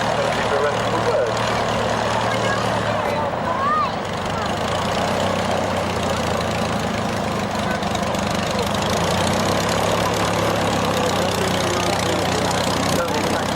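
Aircraft engines idle steadily as planes taxi out at the Army Air Corps Middle Wallop airshow, a continuous low rumble heard from a distance alongside crowd noise and voices.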